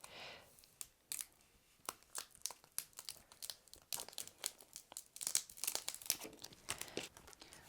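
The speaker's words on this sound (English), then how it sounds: "peel away the transfer tape" Transfer tape peeled off a vinyl sticker decal, a run of crisp crinkling, crackling pulls and tears, close and fairly quiet, growing busier toward the end with no talking.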